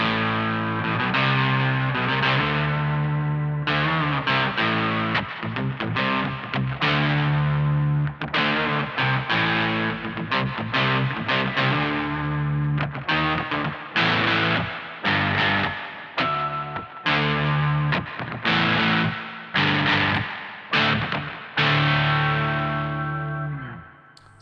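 Electric guitar played through an Analog Alien Rumble Seat octave pedal with the upper octave pulled back and extra reverb, giving steady distorted chords and notes with short breaks, loud and close, no talking.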